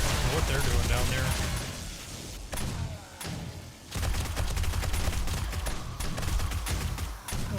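Rapid gunfire in the 7 Days to Die survival game, Alpha 20, dense bursts of shots and thuds nearly throughout with a brief lull midway, loud and close, with someone talking over it.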